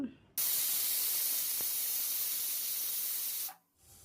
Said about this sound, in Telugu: త్రీ విజిల్స్ వచ్చాయి కదా ఆవిరిపోయేంత వరకు వెయిట్ చేద్దాము